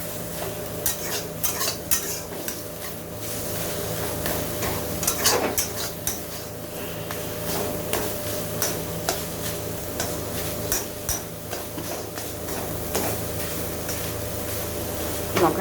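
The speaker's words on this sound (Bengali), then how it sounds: "শাকটাকে ভালো করে নেড়ে দিতে হবে, নইলে নিচ দিয়ে শাকটা লেগে যাবে।" Red amaranth greens are stirred and fried in a pan, with a spatula scraping and clinking against the metal in an irregular rhythm over a low, steady sizzle. The sound is close and moderately loud, with no talking.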